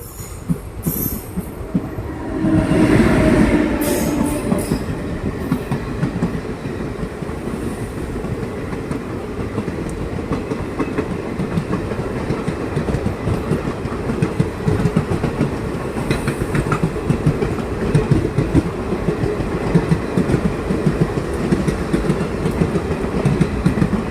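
The Jan Shatabdi passenger train, hauled by a WP7 locomotive, rolls along the rails toward Sasthamkotta station with a loud, continuous rumble and rapid clattering of wheels, a brief squeal near the start.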